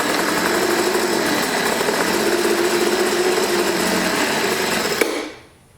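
A scrapped Craftsman 4-stroke weed eater with a faulty carburetor runs at a steady, buzzing high idle, loud and close, then cuts out sharply near the end and winds down to quiet.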